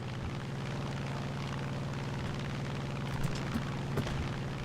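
Aircraft engine drone in the tank combat game War Thunder, a steady, fairly faint propeller-like hum that persists throughout, with a few soft thumps near the end and no talking.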